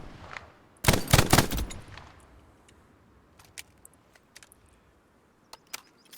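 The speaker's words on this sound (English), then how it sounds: "make sure you get that multiple hit mark sound as you're shooting at people as an MG" A machine gun in a video game fires one loud close burst of rapid shots, then scattered sharp distant shots and ticks follow over quiet.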